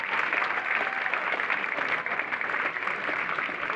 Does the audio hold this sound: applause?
yes